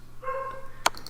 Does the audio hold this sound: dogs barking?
yes